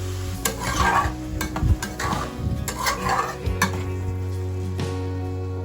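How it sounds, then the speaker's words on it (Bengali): Masala spices with red chilli and coriander powder being stirred in a pan with a little added water, with repeated close scraping strokes of a spoon against the pan over a steady sizzle, no voices. "সবকিছু খুব ভালোভাবে মিশিয়ে নিচ্ছি এবার সামান্য একটু জল অ্যাড করছি যাতে মশলাটা পুড়ে না যায়"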